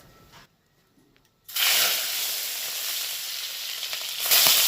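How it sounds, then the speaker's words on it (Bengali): Prawns drop into hot oil in a kadai, bursting into a loud, steady sizzle after a brief quiet pause, with the frying hiss swelling again toward the end. "এই তেলের মধ্যে আমি চিংড়ি মাছগুলোকে ভেজে নেব"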